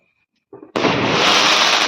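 A short fizz is followed by a sudden loud firecracker burst during Diwali in a village, becoming a harsh, sustained roar of sparks close by.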